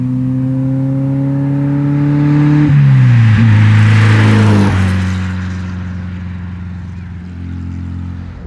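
A loud 1957 Porsche 356 Speedster engine, tuned to 100 hp, revs up, its pitch climbing and then dropping, with a strong throaty drone close by and no talking.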